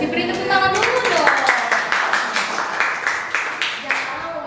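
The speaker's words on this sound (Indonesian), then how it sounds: "Beri tepuk tangan dulu dong." A small group in a school podcast about the flag-raising troop claps for its district-level achievement, several sharp, loud hand claps in quick uneven rhythm over lively talk and laughter.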